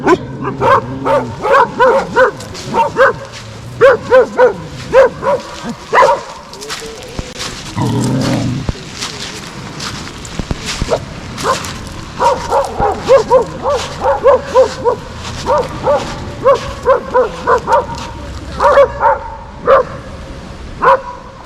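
Dogs bark repeatedly in bursts throughout at a village campsite, several animals yelping and woofing at moderate distance, with brief pauses between volleys.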